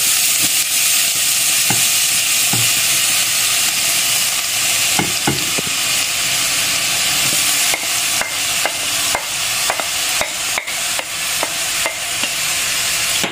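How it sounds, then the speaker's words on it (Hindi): Carrots sizzling in melted ghee for gajar halwa, a steady close frying hiss with intermittent clicks and scrapes of a spoon stirring the pan, with no talk over it. "हमारा घी मेल्ट हो चुका है अब हम इसमें गाजर डालेंगे"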